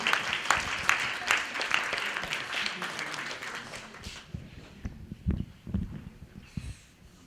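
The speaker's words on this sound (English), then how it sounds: "Give them a round of applause." Audience applause for students at a summer internship completion and scholarship ceremony: dense, steady clapping fills the first few seconds, then thins out into scattered claps and a few low thuds.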